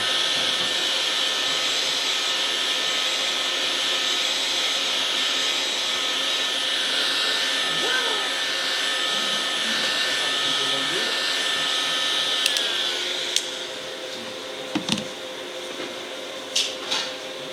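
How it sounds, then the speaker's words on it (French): A heat gun dries glass with a steady blowing hiss and a faint whine for about thirteen seconds, then cuts off, leaving a few light knocks and handling sounds. "Alors pour ce faire, nous allons utiliser le décapeur thermique. Et nous allons sécher le verre."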